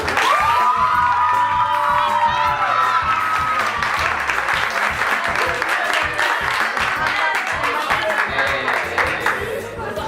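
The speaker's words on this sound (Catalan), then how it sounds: "donar les gràcies a la Paola, així que un fort aplaudiment per ella" Loud applause and cheering from the crowd at a secondary school graduation ceremony, clapping mixed with whoops and shouting voices, including children's, sustained and close throughout.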